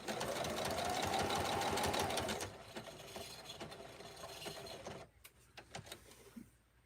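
A sewing machine stitches a rag quilt, running fast and steady up close for about two seconds, then slowing into softer uneven stitching before a few isolated mechanical clicks.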